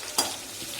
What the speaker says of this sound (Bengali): আলু ভাজা হচ্ছে এখন